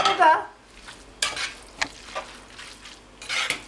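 Chicken and vegetable noodles stirred and frying in a pan: a few scraping, clattering utensil strokes with soft sizzling between them, close and fairly quiet, no voices.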